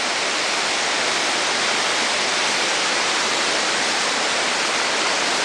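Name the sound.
creek water flowing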